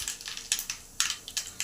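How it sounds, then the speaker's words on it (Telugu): Mustard seeds splutter in hot oil alongside cumin, fenugreek and chana dal during tempering, giving a string of sharp, irregular pops and crackles up close. "ఆవాలు చిటపట అంటున్నాయి కదా."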